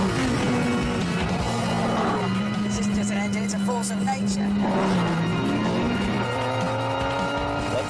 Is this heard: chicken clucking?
no